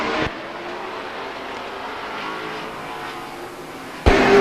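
Late model race cars circle Stockton 99 Speedway in a B main event, a steady engine drone heard from a distance, bracketed by louder bursts of nearby roaring at the start and end.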